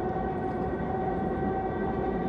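An S-Bahn train running on the S25 line through Berlin in the video game Train Simulator 2021, a steady loud rumble with a continuous hum and no breaks.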